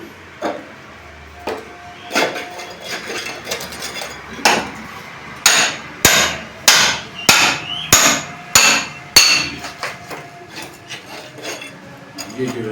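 A hammer breaks up a floor to install a Nahani trap for plumbing, loud sharp irregular strikes that build into a rapid series of heavy blows, close by with a little background noise.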